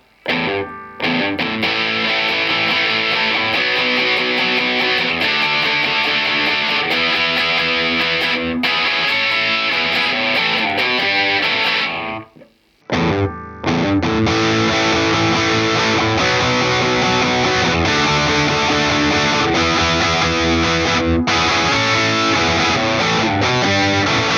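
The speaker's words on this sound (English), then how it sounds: "a distortion pedal is great for that" An electric guitar through a distortion pedal plays loud, dense, saturated chords on the bridge pickup into a Fender Tone Master Deluxe Reverb amp, with a brief cutout just past the midpoint before the heavy driven playing resumes.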